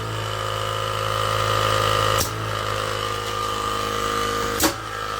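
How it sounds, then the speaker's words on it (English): Air compressor running steadily for an emergency braking system engineering project, a constant mechanical hum with two brief sharp clicks or releases, close and alone without talk. "So now I'll just turn on the compressor."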